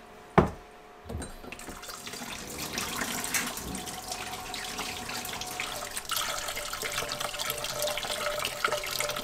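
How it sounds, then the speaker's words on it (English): Salmon roe being rinsed in a strainer under running tap water, a steady wash of water held for several seconds after a couple of brief clunks at the start. "Then I'm going to be transferring it to our strainer. Basically going to be rinsing these"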